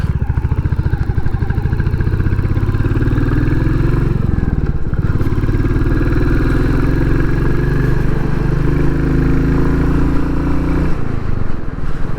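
A Royal Enfield Classic 350 motorcycle thumps along on a road ride. Its loud, steady engine note rises and falls gently through gear changes, with no speech.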